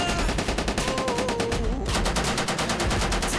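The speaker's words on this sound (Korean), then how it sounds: "기관총 사격에 이어" An armored vehicle's machine gun fires during an army armored brigade tactical drill, a loud, continuous rapid-fire burst of evenly spaced shots that keeps up throughout.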